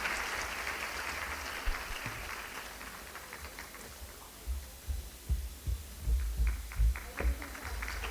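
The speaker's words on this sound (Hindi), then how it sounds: "आप सभी के लिए जोरदार तालियां हो जाएं" An audience at a school event in Noida claps: a broad wash of applause fades down, then gives way to a few heavier thumping hand claps and low hum toward the end.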